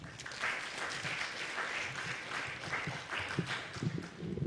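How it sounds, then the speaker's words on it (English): Audience applause at a Toorcon 2007 security conference talk, a steady wash of clapping filling the room for several seconds, moderately loud and unbroken. "Let's give a big round of applause for Justin."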